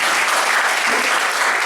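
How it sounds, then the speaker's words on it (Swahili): A church congregation claps during a sermon, a loud, dense, sustained burst of many hands applauding together, close and unbroken. "Pigia Bwana Yesu makofi."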